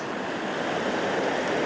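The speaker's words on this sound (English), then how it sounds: "little waterfalls straight in front of me" Small waterfalls on the Lurg Burn pour in a steady, close rushing wash of water that fills the whole moment without pause.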